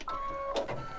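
An embroidery machine stitches out a snowman mug rug, giving a brief, close mechanical whir with a steady tone that shifts near the end.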